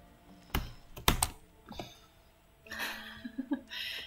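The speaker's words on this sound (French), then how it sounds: "J'appuie sur toutes les touches de mon clavier en même temps" Keys on a computer keyboard are mashed all at once during a platformer game, giving a couple of sharp clustered clacks followed by a softer rattling burst of keystrokes, close and fairly quiet, with no talk.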